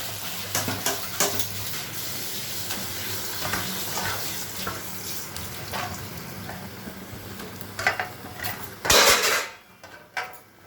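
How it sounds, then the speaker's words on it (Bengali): Chicken pieces frying with salt and turmeric in a Bengali-style curry, a soft continuous sizzle broken by intermittent stirring clatters and a louder scrape near the end. "মাংসটা ছেড়ে কষাবো নুন হলুদ দিয়ে"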